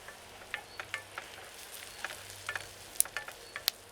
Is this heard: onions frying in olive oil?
yes